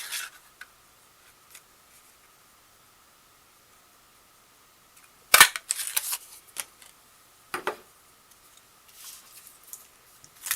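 A 1 3/4 inch paper circle punch clacks sharply through cardstock in one loud crunching snap, followed by lighter clicks and paper rustling in a quiet room.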